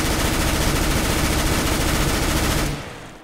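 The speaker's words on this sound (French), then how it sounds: "Si tu fais ce qu'on appelle un full, c'est-à-dire que tu laisses ton doigt appuyer," Sustained full-auto gunfire in a video game, a dense unbroken stream of rapid shots lasting nearly three seconds, loud and close, then cutting off abruptly into a short fading tail.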